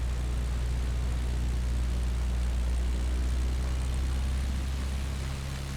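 A steady, loud airplane engine drone, likely propeller-driven, hums evenly and close throughout as the aircraft lands in a flight video game during an around-the-world journey event.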